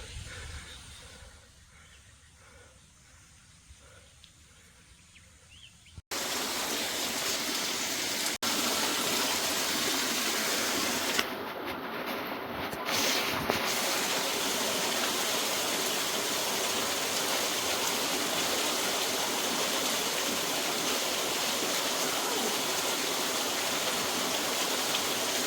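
Mountain stream water rushing along a trail near Ungaran, a loud steady broadband roar that begins abruptly after a few quiet seconds and continues unbroken and close.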